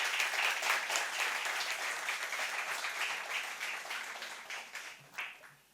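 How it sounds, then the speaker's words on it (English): Sustained applause from an audience at an art exhibition opening at NGMA Mumbai, honouring the curation team: dense, steady clapping that gradually thins and fades over several seconds, with a few louder individual claps near the end. "just give a huge round of applause for them."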